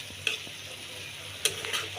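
Tengra fish going into a hot frying pan gives a steady close sizzle, broken by a few sharp crackles and spatters.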